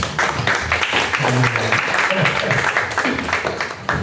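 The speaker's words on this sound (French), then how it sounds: "Est-ce qu'on pourrait acclamer pour l'encourager?" An audience applauding and cheering to encourage a woman, a steady wash of clapping with scattered shouts, dense and close, and a voice speaking over it.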